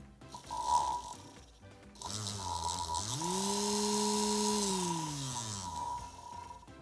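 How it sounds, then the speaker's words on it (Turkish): An electric motor whirs up, its pitch rising and holding in a steady hum, then winding down as it spins the drum of a homemade sander, with a faint background whine. "Şöyle bir de motorumuzu çevirelim."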